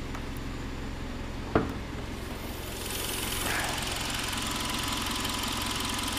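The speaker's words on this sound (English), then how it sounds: "Engine sounds great." A 2009 Hyundai Sonata engine idles with the hood open, a steady low mechanical hum. A sharp click comes early on, and a slightly louder hiss fills the latter half.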